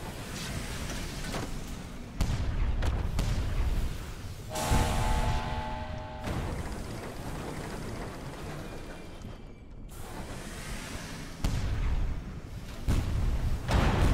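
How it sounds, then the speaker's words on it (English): Ship cannons fire in the Sunless Skies video game, heard as repeated heavy booms and thuds that stand out from a dense, continuous game soundscape. "And this is where your cannons heat up, so you've got to move to let them cool down."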